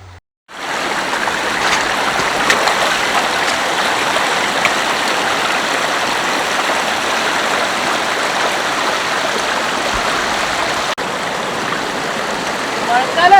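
Continuous rushing water pours steadily over a small check dam at Adyanpara Waterfalls, loud and close, a broad unbroken roar throughout with no pauses.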